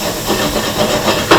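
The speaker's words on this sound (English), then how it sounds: "Drop some cognac, and then boom, you got some flambé." A pan of sautéing bananas flambéed with cognac gives off a loud, steady rushing whoosh of flame and sizzle, with a brief flare near the end.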